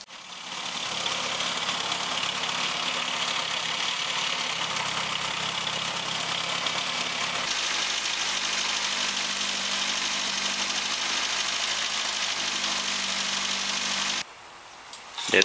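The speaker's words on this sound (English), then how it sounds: "so when the car's idling" A Morris Mini Cooper S engine idles steadily in an engine bay, a loud continuous mechanical drone with a slight change in tone partway through, before cutting to a brief burst of different noise at the end.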